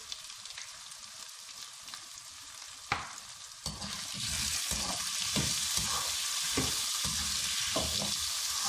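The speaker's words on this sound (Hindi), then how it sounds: "इसको 3 से 5 मिनट तक फ्राई कर लेंगे।" Potato and spinach with crushed chili and salt start frying in a pan: quiet scraping at first, then a sharp clank, then a loud, steady sizzle with stirring scrapes over it.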